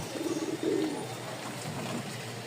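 Pet pigeons, one of two pairs of light biscuit-coloured birds, coo softly in a short burst nearby, followed by quieter faint coos over a low background hum.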